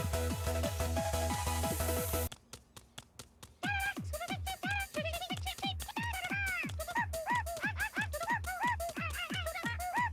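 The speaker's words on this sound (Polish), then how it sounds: "Brzmi tak, jakby skrzekoptak był gdzieś z przodu." Repeated squawking honks from the squawk bird in the Bluey video game, a goose-like call sounding again and again in quick, uneven bursts after a loud opening stretch of game music, close and clear.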